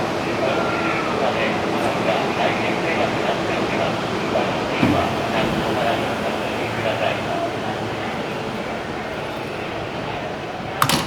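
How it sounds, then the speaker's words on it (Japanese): Tokyo Metro Tozai Line 05 series wide-door train pulling out of Nakano station, a steady rumble of wheels and motors filling the platform, with station announcements and crowd noise layered over it. "4番線は列車が発車いたします。"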